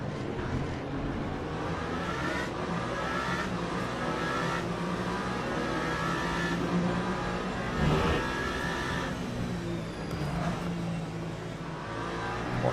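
Race car engines in the sim racing game Le Mans Ultimate, with a Ferrari and a Genesis among the cars, make a steady, loud engine drone with rising and falling revs throughout, and no one speaks.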